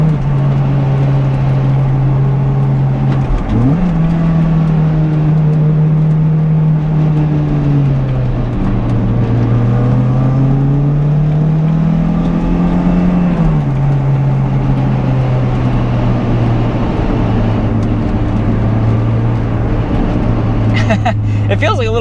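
A 2000 Toyota MR2 Spyder's engine drones loudly and steadily from inside the car while driving, its pitch rising and falling as revs change, with a voice talking over it throughout.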